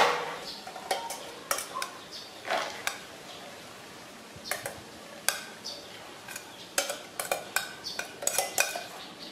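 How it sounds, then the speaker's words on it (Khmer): Boiled beans being stirred in a pot while mixing a steamed milk bean cake batter, with irregular clinks and scrapes of a utensil against the pot, close and fairly quiet, no talking. "ដាក់ចូលក្នុងឆ្នាំងដើម្បីលាយ"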